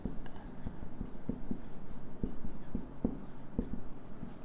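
Pen writing a line by hand on paper, soft scratchy strokes with small regular taps, close and quiet.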